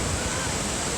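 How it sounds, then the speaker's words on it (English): Kegon waterfall near Mount Nantai in Japan pours as a dense, continuous roar of rushing water, loud and close with spray, with no talk over it. "But this is called Kegon waterfall."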